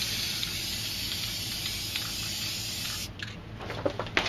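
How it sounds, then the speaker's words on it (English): A spray paint can hisses steadily as white paint is sprayed for graffiti-style moon and mountain art, a loud continuous close spray that cuts out near the end, leaving a few softer rattles. "I'm going to spray some white here."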